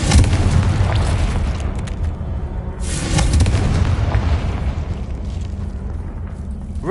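A Confringo blasting spell detonates in Hogwarts Legacy with a heavy, rumbling explosion, followed by a second deep boom and a long rolling low tail that fills the whole stretch.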